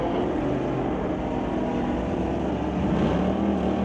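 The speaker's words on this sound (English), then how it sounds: "So first pair down the track. Stephen Kennedy brings up a 2020 Chevy Camaro ZL1 out of Coombs alongside Bob Miller, the 2019 Dodge Red Eye." A 2020 Chevy Camaro ZL1 and a 2019 Dodge Red Eye roar side by side down a drag strip at a street-legal night event, a dense, continuous engine rumble that swells slightly toward the end.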